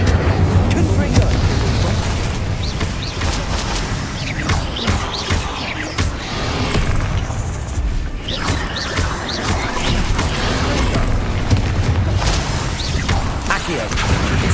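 Spell casting and explosions from Hogwarts Legacy on PS5: dense, continuous combat noise with repeated booms, crashes and magical whooshes, loud throughout, with a voice calling out spells over the battle.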